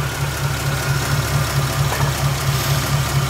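A 1951 Ford Custom's 239 cubic inch 8BA V8 idles steadily, close and loud, with an even low throb and a slight knocking pulse.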